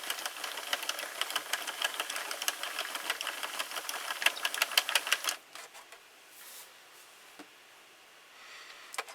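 A Sentro knitting machine is cranked with LBY Fishermen's Wool yarn, making a fast, steady mechanical clatter of needles and gears. The clatter stops partway through and leaves faint rustling and handling sounds.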